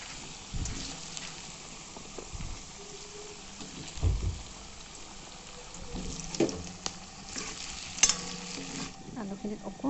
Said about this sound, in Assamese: আলুখিনি এনেদৰে অকণমান দেৰি ফ্ৰাই কৰি লৈছোঁ।